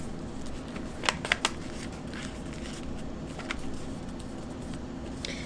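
Origami paper being folded on a flat surface, soft papery crinkles and a few sharp creasing snaps close by over a steady background hiss.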